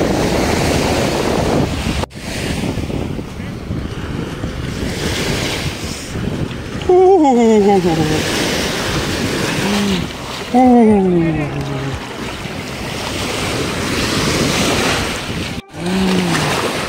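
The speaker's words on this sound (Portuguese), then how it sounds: "Agora a água aqui tá bem agitada, por causa do vento, acredito." Rough, wind-driven sea waves at Albufeira beach in the Algarve, Portugal, roar and wash steadily amid heavy wind buffeting on the microphone, while a nearby voice talks over the surf at intervals.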